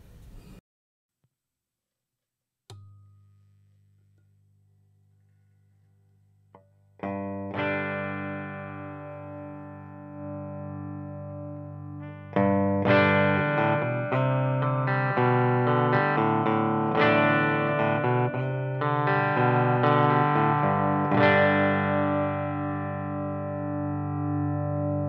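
Electric guitar played through a hand-wired ZenZero Zero combo amp with an 8-inch speaker, opening with a sustained low note, then ringing distorted chords and riffs that swell and continue for about twenty seconds, loud and close.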